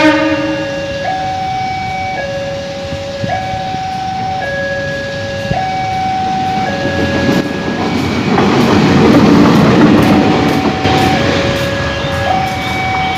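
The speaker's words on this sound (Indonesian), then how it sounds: "Lokomotif menuju stasiun Bandung." A CC203 locomotive-hauled train rumbles loudly through the Jl. Merdeka level crossing in Bandung, its wheels clattering over the rails while the crossing signal's two-tone electronic bell alternates steadily throughout.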